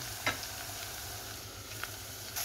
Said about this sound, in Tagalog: Igisa-gisa muna natin ang ating mga sangkap.